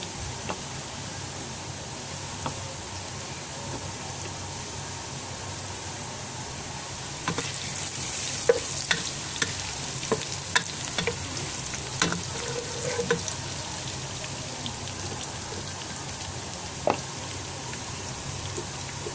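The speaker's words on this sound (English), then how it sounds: "So now we will add garlic paste in it." Garlic paste fries in a pan with a steady, moderate sizzle like light rain, joined midway by a series of sharp spatula taps and scrapes as it is stirred; no voices.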